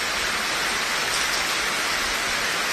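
Heavy rain pours down in Abohar, a dense, steady hiss of drops close by with no pauses, no voices, and no other sounds.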